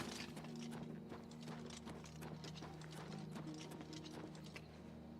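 Horse hooves clip-clop in the video game Oblivion, a quiet, steady run of hoofbeats under a low, constant game soundscape.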